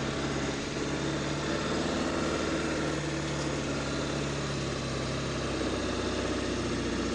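Ford 7.3 Powerstroke diesel truck engine pulling a 15,900 lb load up a steep driveway, a loud, steady, heavy drone with a deep low rumble and a constant labouring tone throughout.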